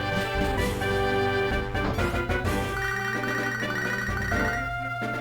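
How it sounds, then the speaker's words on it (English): An electronic phone ringtone chirps in a repeating melodic pattern over a steady, buzzy game-style music bed. "And it looks like we're getting a phone call from Professor Elm."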